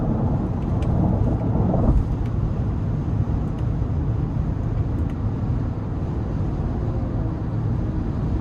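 A 2026 GMC Yukon Denali Ultimate cruising at speed, a steady loud broadband road and engine roar with a brief surge near the start before settling into an even drone.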